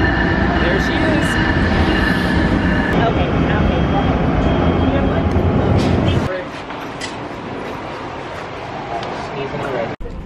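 A train arriving at a station, with a loud rumbling, rattling roar and high squeals that drop off sharply partway through, leaving a quieter hum and faint clicks; a voice is briefly heard.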